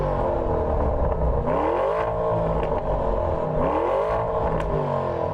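An Audi engine with its standard stock exhaust revs hard against the soft limiter, with repeated rising and falling swells of a raspy, buzzy engine note, loud and close.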